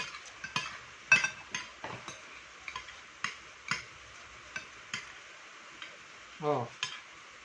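Pork adobo (adobong baboy) is stirred in a pan, giving close, irregular scraping clinks and light sizzle, with a brief low rumble near the end.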